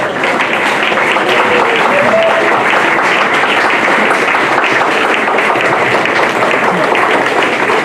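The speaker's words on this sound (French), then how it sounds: "Veuillez applaudir pour Monsieur le Premier ministre" Audience applause fills a graduation ceremony hall for the Prime Minister, a dense, steady wash of clapping that holds loud and even throughout with no pause.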